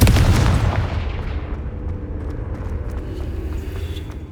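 In Hogwarts Legacy, a Confringo spell goes off with a loud booming explosion that opens strongly and decays into a long rumbling tail.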